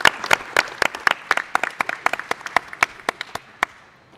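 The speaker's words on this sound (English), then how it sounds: "I think that deserves a round of applause." A round of applause breaks out at an Oregon Tourism Commission meeting, a small group clapping in quick, uneven bursts that start loud and thin out toward the end, with no talking over it.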